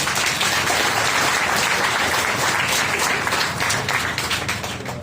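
Dense, sustained applause from a crowd at a Saint Anthony pilgrimage gathering, loud and continuous, thinning slightly toward the end.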